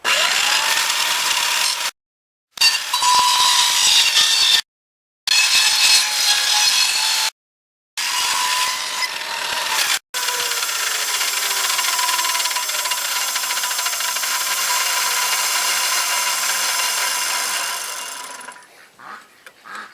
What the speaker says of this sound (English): I'm going to move the saw blade over just a little bit and make this groove a little bit wider.